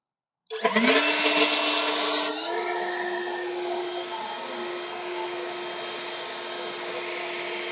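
EGO 765 CFM cordless leaf blower switched to turbo while blasting gravel, starting abruptly with a loud rushing whine and grit spray, then settling into a steady high-pitched airflow roar.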